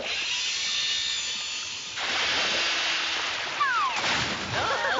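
Water splashes and surges in two bursts in a Sonic game, with bright electronic chirps breaking in near the end.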